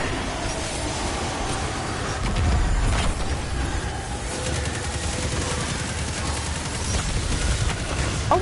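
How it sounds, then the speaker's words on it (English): Rapid, continuous weapon fire in Destiny 2 rattles under a dense, noisy battle mix, loud and sustained for the whole stretch. "Just shooting."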